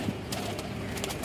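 Pigeons coo softly in a low, continuous murmur, faint and steady with no talk over them.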